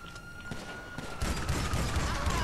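Rapid gunfire in the GTA 5 Online video game, a dense volley of shots that swells louder halfway through and keeps going as a steady barrage.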